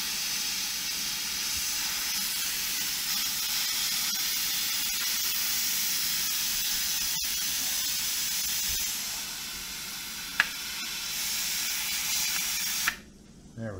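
A pressure canner on a stove vents steam through its open set screw while pork is canned, a steady loud hiss running nearly unbroken for about thirteen seconds, with a brief click near the end before it cuts off.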